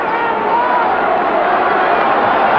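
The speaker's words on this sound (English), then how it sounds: "Listen to the crowd." Crowd at the 1996 WAFL grand final between Claremont and East Perth, a dense, steady roar of many voices with no break, loud and constant throughout.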